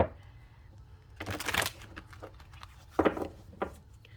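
Tarot cards being shuffled by hand in a quiet room, two short bursts of riffling and tapping separated by near silence, close and fairly soft.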